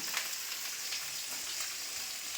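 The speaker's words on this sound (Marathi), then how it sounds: "आपली मच्छी झालेली आहे तळून" Fish frying in hot oil, fresh-caught after the first monsoon rain, a soft, steady, even crackle with fine popping throughout, heard close but at low volume.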